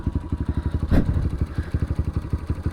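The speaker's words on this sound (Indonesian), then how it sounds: "Ini mesinnya sih, kalian dengerin deh," A Kawasaki KLX 150 S motorcycle engine idles close by with an even, rapid thumping pulse, plus a brief louder rustle partway through.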